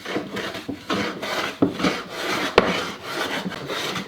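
A Telecaster wood body being smoothed by hand to remove planer tool marks gives repeated rhythmic rasping strokes, about eight close passes with a sharp knock partway through, and no talking.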